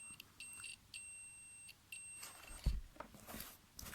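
Quiet, high-pitched electronic beeps from an analog multimeter's continuity buzzer as the probes touch, several short tones with gaps between them over faint background noise.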